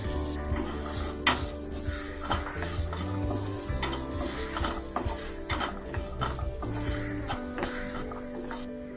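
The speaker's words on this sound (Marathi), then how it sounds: "मिरची पावडर, गरम मसाला थोडं परतून घेऊया. शेंगदाणे घालून घेऊया." Chili powder, garam masala and peanuts sautéed with browned onions in a pan for a tiffin recipe: close, steady sizzling under repeated spatula scrapes and metallic knocks on the pan at an uneven rhythm, with no talking.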